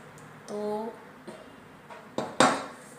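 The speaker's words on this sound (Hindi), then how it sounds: "तो ये इडली का कुकर है, तो ये भी एल्युमिनियम का ही है।" Metal clatter from an aluminium idli cooker being handled in a home kitchen, a short ringing clang followed by a few knocks and a louder sharp clatter near the end, close by with no talk.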